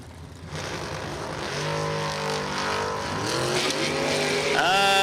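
A pickup truck and a 1992 Camaro launch off the line at a drag strip, engines revving up loudly and climbing in pitch together over about five seconds after a brief quiet start.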